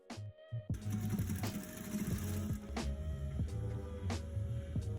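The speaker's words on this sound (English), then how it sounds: "Start by folding the seam like this and backstitch at the beginning." A sewing machine backstitches along the folded seam of a cargo pocket, running in short rhythmic bursts with mechanical clicks and brief pauses after a quiet start.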